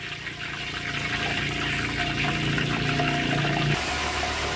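Steady bubbling sizzle of chicken frying in hot oil, a continuous crackling hiss that cuts off abruptly near the end.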